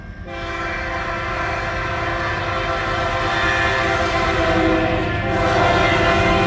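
CN northbound freight train led by a rebuilt C6M diesel locomotive at Ladysmith, Wisconsin, a sustained loud horn blast over heavy engine rumble and rolling rail noise, building steadily as the train nears.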